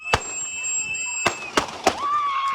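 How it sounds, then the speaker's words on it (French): Four sharp shots ring out in quick irregular succession as police fire on a man during street unrest, each crack echoing over a background of electronic tones and a rising siren-like whine. "des coups de feu retentissent"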